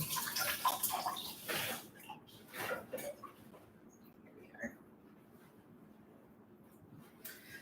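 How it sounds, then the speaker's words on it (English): Fresh-picked berries rinsed under a running tap, with water splashing and trickling most strongly in the first three seconds, then fading into faint drips and quiet handling sounds, soft and close. "let me wash these off really quick"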